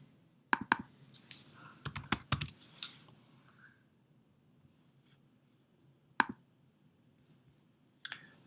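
Quiet clusters of computer keyboard taps and mouse clicks, a quick burst early on followed by sparse isolated clicks, close up in a quiet room.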